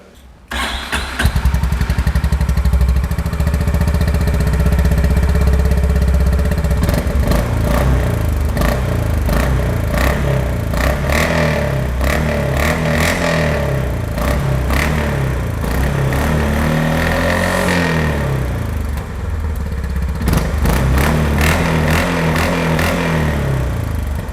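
A new Honda CB 350 motorcycle starts up and settles into a deep, steady idle, then revs rise and fall several times in smooth swells, loud and close from a handlebar-mounted recorder.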